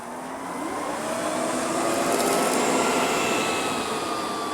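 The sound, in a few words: Ecovacs Deebot M81Pro robot vacuum cleaning crumbs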